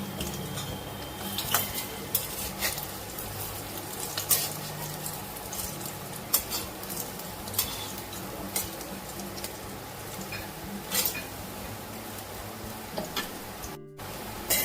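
Fish roe fritters fry in a pan while being turned with a spoon, a faint continuous sizzle punctuated by light clinks and scrapes of utensil on metal, no voices.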